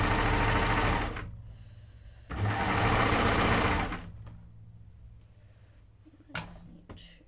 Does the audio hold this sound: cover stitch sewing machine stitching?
yes